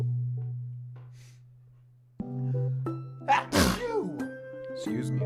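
A loud, close sneeze bursts out over steady game music and chimes during a Pokémon Pokopia playthrough, a single sharp burst standing clear above the background tones.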